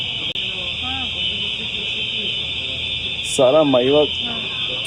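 A building fire alarm sounds as a steady, piercing electronic tone that runs loudly through the whole stretch, with people talking over it and a brief louder voice near the end.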